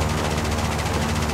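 A short, steady burst of machine gun and cannon fire from a LaGG-3 fighter in War Thunder, with rapid rhythmic reports at moderate volume.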